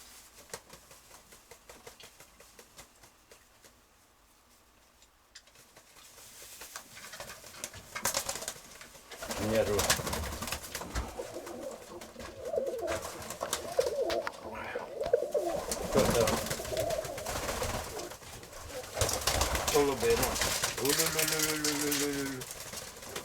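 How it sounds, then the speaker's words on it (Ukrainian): Soft pigeon coos come now and then against rustling, clattering background noise, with a clearer cooing call near the end. "Випустити голубів потихоньку, щоб вони привикали"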